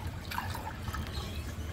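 Water is poured for a rabbit, a soft continuous trickle and splash heard close and faint against a low background rumble, with no talk.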